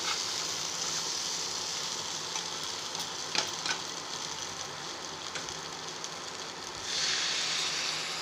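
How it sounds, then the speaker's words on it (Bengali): Water is poured into a sizzling pan of potato and pointed gourd curry with slit green chillies, producing a steady close hiss and bubbling wash that swells near the end, with no talk. "এবার দিয়ে দেবো পরিমাণ মতো জল।"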